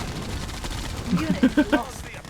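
Gunfire rattles in an online strategy game as units shoot at Soviet ore-harvesting vehicles, a short run of punchy shots under excited voices talking.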